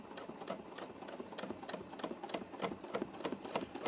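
A sewing machine does free-motion quilting while being moved backwards, its needle stitching in a fast, even rhythm with faint crackling, close up and alone.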